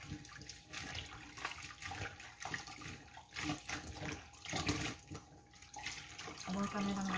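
Running water rinses sweet potato leaves (talbos ng kamote) in a home kitchen, a steady splashing wash with faucet flow near the microphone, its level rising and falling as the leaves are handled.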